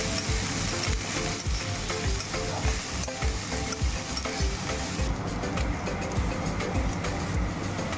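Chopped onion frying in oil after whole cumin seeds, a steady close sizzle with frequent stirring scrapes running throughout, no voices.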